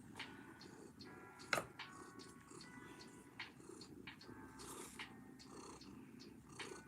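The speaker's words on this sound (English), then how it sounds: "You're a very loud kitten." Evie, a young kitten, purring steadily and loudly up close, a continuous rumbling drone with a few sharp clicks and small shuffles over it.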